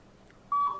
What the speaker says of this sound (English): I think there's a fire alarm going off in my building.